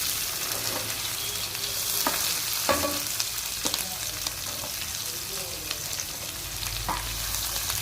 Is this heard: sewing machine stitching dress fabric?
no